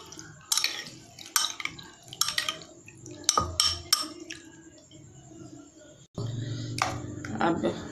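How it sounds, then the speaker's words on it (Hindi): Banana jelly and mango jelly are stirred together in a bowl for a homemade fruit trifle: close, bright clinks and scrapes of a utensil against the bowl in irregular bursts, then a softer, wet mixing rustle. "अब एक बाउल में हम बनाना जेली और मैंगो जेली को मिक्स करेंगे"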